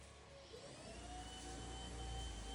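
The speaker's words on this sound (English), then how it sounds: "Bear, I don't hear that vacuum running." A steady mechanical whir, like a vacuum cleaner running nearby, holding a continuous drone with a slight rising pitch and low rumble.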